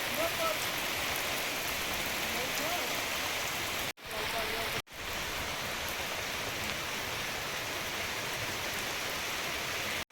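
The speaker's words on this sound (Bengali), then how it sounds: "বৃষ্টি কিন্তু জোরে আসছে এবারে।" Heavy rain pours down steadily in an outdoor rural setting, a dense, loud hiss of drops on surfaces that runs through the whole stretch with two brief cuts, without voices.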